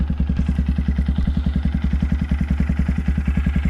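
A 2022 Honda Grom SP motorcycle with an aftermarket exhaust idles close by, its steady, loping low burble pulsing evenly throughout with light mechanical clatter on top and no talking.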